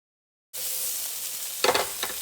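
After a moment of silence, vegetables hit a pan of melted butter and begin a steady, close sizzle, with a few louder clatters as they are stirred.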